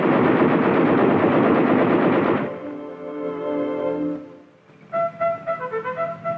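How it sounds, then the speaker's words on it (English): Machine guns on an M60 tank fire a long, dense burst of rapid automatic fire, then break off into a ringing, echoing tail and a few short follow-up bursts, loud and close. "cannon and 2 machine guns. All weapons can be fired from within."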